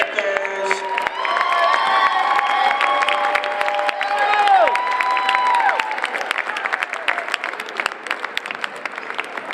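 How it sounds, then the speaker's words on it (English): A gym crowd at a girls' high school basketball holiday tournament applauds and cheers the runner-up team, with loud clapping, whoops and shouts that swell and then taper into scattered claps. "Round of applause for your Lady Panthers."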